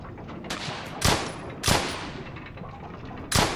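Gunfire from the World War II shooter Brothers in Arms: Hell's Highway: a few sharp, separate shots spaced about half a second to two seconds apart, moderately loud over a low ambient bed, with no talking.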